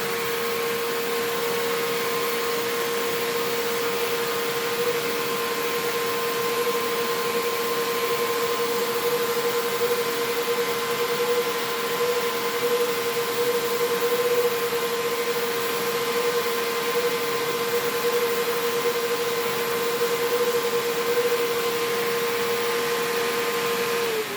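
A Bissell SpotClean Pro Heat carpet cleaner runs close and loud with a steady motor drone and a sustained whine that holds for the whole stretch.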